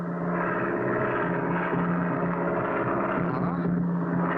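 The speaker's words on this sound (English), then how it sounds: "It's a plane. That's Pack Rat's plane. I'd know the sound of his engine anywhere." A small propeller plane's engine drones steadily overhead in a cartoon bush-pilot scene, a continuous humming tone holding level and fairly loud from start to finish.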